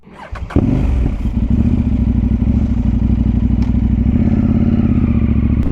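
A KTM 890 Duke R motorcycle starts up nearby and then idles and rolls off with a loud, steady mid-pitched engine drone that holds for several seconds.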